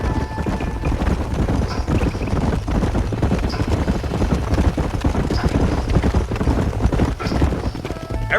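Several horses clip-clop steadily along a trail in the video game Red Dead Redemption, a dense, continuous patter of hoofbeats over wind noise, with no voices.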